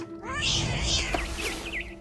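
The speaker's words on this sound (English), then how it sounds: "I was a cat." A game cat meows several times in What Remains of Edith Finch, short rising and falling cries following one another over a steady background hum.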